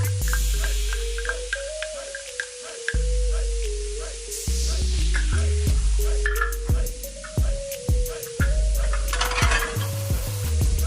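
Chopped green pepper, onion, jalapeno and garlic fry in a pan, a constant close sizzle broken by repeated scraping stirs and clanks, with a low droning tone running beneath.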